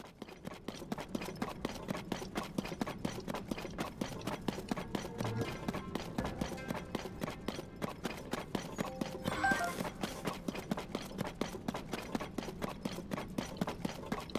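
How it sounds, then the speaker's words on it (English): Steady, rapid hoofbeats of a galloping horse in the video game The Legend of Zelda: Tears of the Kingdom, rhythmic and continuous throughout, with a brief whinny-like sound partway through. "I might steal that horse."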